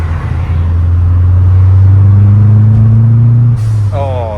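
The interior of a rare 1990s Ford sedan on the move with a window partly lowered, a loud, steady low droning rumble with rising engine tone and wind buffeting, ending with a short squeal-like sound.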